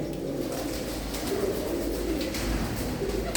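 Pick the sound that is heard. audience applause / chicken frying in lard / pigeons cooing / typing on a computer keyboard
pigeons cooing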